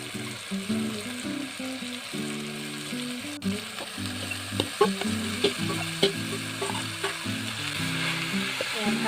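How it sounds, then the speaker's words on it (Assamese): Moroliya greens fry with tomatoes in a pan, giving a continuous sizzle with irregular stirring clatters, while steady tonal background music plays along. "ভাজিব লাগিব অলপমান।"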